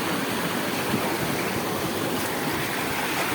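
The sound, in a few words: rushing water of a waterfall stream in Chapri Gorge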